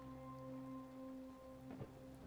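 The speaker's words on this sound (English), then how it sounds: "The storm arrives." A rain and storm sound effect plays as a steady soft hiss of rainfall under a low sustained musical drone, with a faint muffled rumble near the end.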